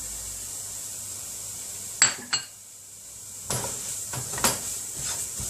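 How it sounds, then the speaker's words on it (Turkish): A utensil scrapes and clinks against a pan while spices are stirred into tomato paste for cauliflower kısır, two sharp knocks first, then a pause and a run of scraping clatters over a quiet hiss. "Baharatları da şöyle bir çeviriyoruz"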